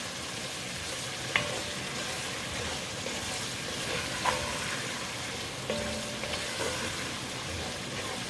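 Vegetables softening in a pan for smothered chicken give a steady, close sizzle with faint stirring scrapes and a few light clicks of a utensil against the pan.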